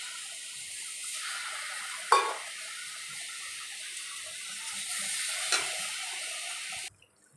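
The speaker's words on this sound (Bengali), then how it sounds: "আমি কড়াতে 1 বাটি চিনি দিয়ে দেবো, সামান্য একটু জল দেবো" Sugar and a little water go into a hot kadai while raw mango chutney is being made. A steady, soft sizzling hiss carries throughout, broken by two brief louder bursts, with no talking, and it cuts off abruptly near the end.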